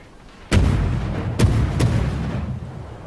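Naval guns on the destroyer Gnevny in World of Warships fire three sharp, booming shots in quick succession, each followed by a rumbling, fading tail.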